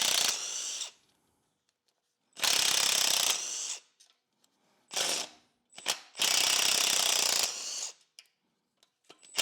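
A ratchet wrench removes bolts from inside a BMW S63 engine during a teardown, heard as several bursts of rapid, close clicking, some long and some short, separated by quiet pauses.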